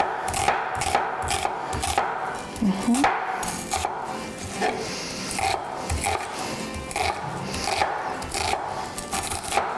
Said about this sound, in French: Donc on a un oignon, puis il faut vraiment les couper fin